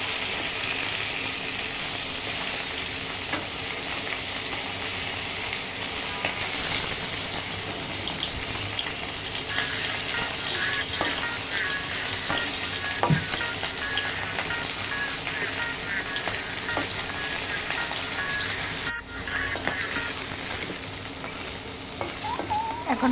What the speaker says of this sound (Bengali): সবগুলো মাছই আমি উল্টে পাল্টে ভেজে নেব। সুন্দর করে ভেজে নিতে হবে।